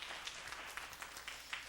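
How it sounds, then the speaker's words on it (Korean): A church congregation claps together in a short burst of applause after a hymn, a dense patter of hands at moderate level under the hall's faint room noise. "귀한 찬양 인도해 주신 남선교회에서 큰 박수 한번 해주시기 바랍니다"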